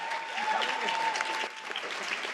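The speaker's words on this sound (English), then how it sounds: "big round of applause before I go on" Audience applause at a breast cancer fundraiser kickoff, a dense steady wash of clapping lasting the whole stretch with a faint voice and a brief tone underneath.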